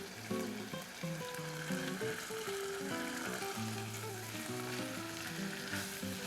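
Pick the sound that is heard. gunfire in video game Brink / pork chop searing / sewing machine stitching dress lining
pork chop searing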